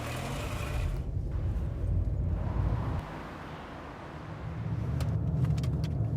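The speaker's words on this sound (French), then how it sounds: "Allez, démarre la voiture, vite, faites pas de conneries" A car engine rumbles close by, its low drone rising, dipping briefly, then swelling again as the vehicle pulls away, with a few light metallic clicks near the end and no talking.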